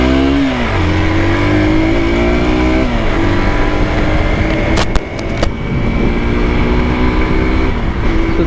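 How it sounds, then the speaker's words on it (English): Hero Xpulse 200 motorcycle riding on tarmac, its engine droning steadily and loud with rising and falling revs through gear changes, wind rush underneath and a brief click midway. "See how this bike feels."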